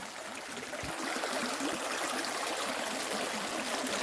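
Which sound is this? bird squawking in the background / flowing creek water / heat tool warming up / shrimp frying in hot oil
flowing creek water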